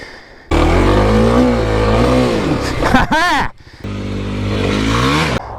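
A 2021 Kawasaki KLX300 dirt bike on an off-road trail revs hard and close while the clutch slips. Its engine pitch rises and wavers, briefly drops away, then surges back loudly.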